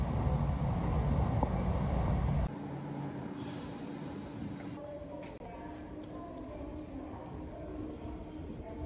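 Train ride toward Koriyama station in Nara: a steady, close interior rumble of the moving railcar, louder for the first couple of seconds and then a softer continuous hum with faint clatter.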